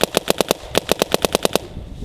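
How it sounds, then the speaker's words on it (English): A Planet Eclipse Etha 2 paintball marker dry fired outdoors in freezing cold with no lube, about a dozen sharp, loud, evenly spaced pops in two rapid strings with a short gap between. "So let's dry fire it again."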